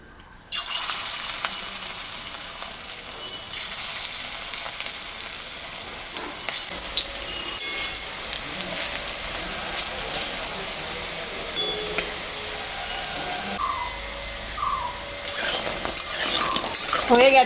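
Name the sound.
corn pakoras frying in oil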